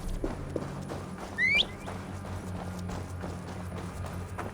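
Horse hooves clip-clop at a steady walking pace in the video game Assassin's Creed Valhalla, close and moderately loud, with a brief whistle-like game sound partway through over constant ambient background.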